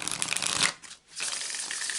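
A deck of oracle cards being shuffled by hand, close up: a quick papery riffle and slide, a short pause, then more rustling card shuffling, with no talking.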